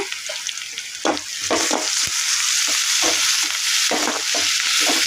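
Crushed ginger and garlic added to softening onions in a pan for pepper chicken, a loud continuous hiss of frying broken by repeated scraping stirs, close and steady, with no speech.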